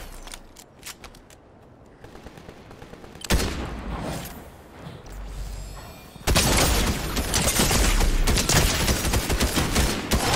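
Gunfire in the video game Fortnite: bursts of rapid shots and booms that grow louder and denser, ending in a sustained loud barrage with no voices.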